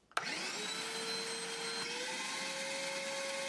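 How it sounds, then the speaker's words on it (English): A shop vac starts with a sharp click and quickly settles into a steady, loud, high-pitched whine, running continuously while its suction is measured with a vacuum gauge. "let me show you how much sucking power a regular shop vac has using this vacuum gauge"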